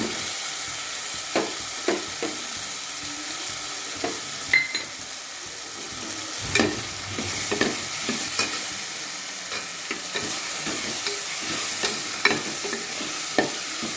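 Boiled potatoes stirred into sizzling tomato masala for a potato white kurma, a steady fry hiss with repeated scraping spoon strokes and clinks against the pan, no voices.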